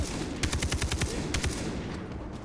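Rapid bursts of automatic gunfire in the Far Cry 3 video game, a quick string of about a dozen sharp shots close by, then a few scattered ones before it tails off.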